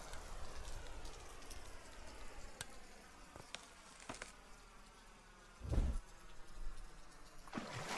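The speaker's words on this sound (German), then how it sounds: "Gut, dass es hier gerade rüber regnet." Steady rain falls in the farming video game Deiland, a soft continuous hiss with scattered droplet ticks and a few brief louder swells, heard alone without talk.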